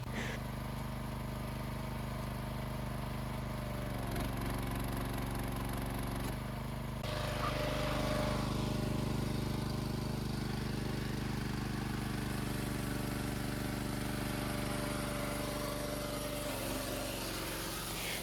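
An engine-driven firewood saw runs steadily, a continuous droning engine hum with a faint shift in pitch partway through, with no voices.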